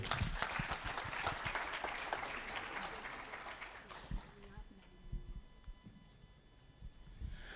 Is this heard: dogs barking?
no